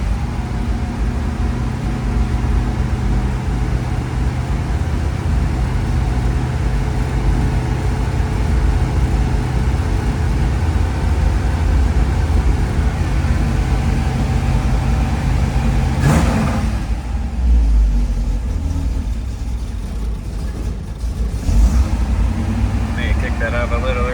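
A 1968 Ford Mustang Shelby Cobra GT500 Convertible's V8 runs on high choke after a cold start, a loud, steady, rumbling idle close by with brief shifts in tone. A voice may be present at times.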